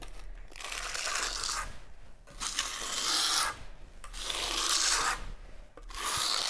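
Plaster trowel spreading Vinia Stone plaster mixed with a stencil on a wall, giving close, raspy scraping strokes in repeated sweeps with short pauses between them.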